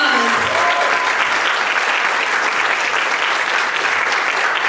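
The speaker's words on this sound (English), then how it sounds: "So can we get a round of applause?" A school-event audience breaks into sustained, even applause, loud and dense from start to finish with a brief voice at the very beginning.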